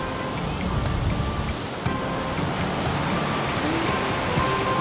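Surf at an uncrowded beach in Bauang, La Union, with waves washing in as a steady broad roar, a few faint sharp clicks and distant hum behind, and no clear speech.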